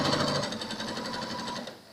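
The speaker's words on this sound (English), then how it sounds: "So now this part I just sew a little bit up." Sewing machine stitching a short run on a pleated fabric face mask, a steady rapid mechanical whir with dense rhythmic needle clatter, close and loud, slowing slightly at the end.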